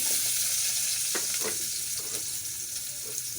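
Onion fries in a pan for chicken tinola, giving a loud, even hiss of hot oil close by, with a few soft stirring scrapes around the middle.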